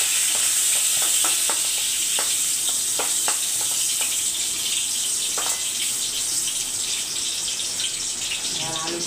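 Pointed gourd pieces fry in hot oil, giving a loud, continuous sizzle close up with scattered sharp crackles and pops from the pan.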